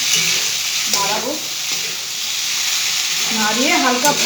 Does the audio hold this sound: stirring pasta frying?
yes